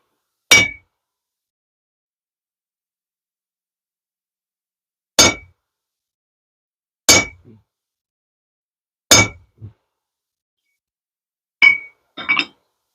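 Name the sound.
hammering a slot punch through hot forged steel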